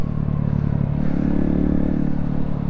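A Honda Grom motorcycle rumbles loudly while being ridden, a steady low engine drone with rattling and clatter, close and continuous.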